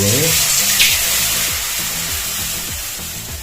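Water is poured into a hot pan of golden-fried semolina for rava kesari, raising a steady, loud sizzling hiss that continues throughout.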